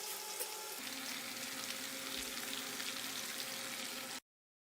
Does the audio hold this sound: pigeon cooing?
no